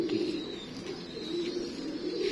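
A Die breed pigeon cooing close by, a low, steady, throaty warble lasting throughout against faint background murmur.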